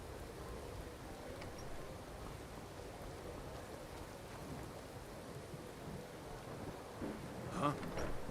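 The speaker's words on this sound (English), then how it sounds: "Sounds like raining outside." Steady rain falls outside an inn in the video game Skyrim, with a soft, even wash of drops, a faint rumble underneath, and a brief louder burst near the end.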